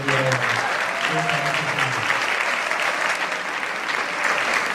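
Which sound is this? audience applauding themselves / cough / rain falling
audience applauding themselves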